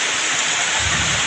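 Heavy rain pours outside a house door during a brief downpour that floods the area, a steady loud broadband wash of water with no voices.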